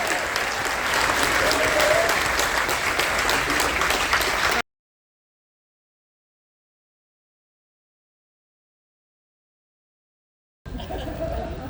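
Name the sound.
cruise ship audience applauding the military canines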